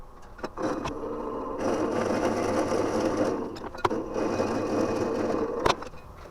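A wood lathe turns an ambrosia maple twig vase at a low 350 RPM, giving a steady whirring drone with a scraping tool texture and a few sharp knocks, close up and without talk.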